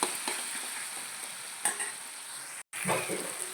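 A spoon stirs egg tomato curry in a pan, scraping and sizzling steadily up close, with a couple of louder scrapes and a brief silent break partway through.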